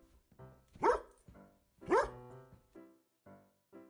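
Two loud, close dog barks about a second apart, followed by a few short stretches of speech.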